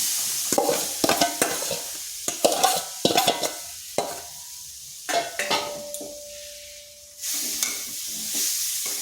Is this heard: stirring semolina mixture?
yes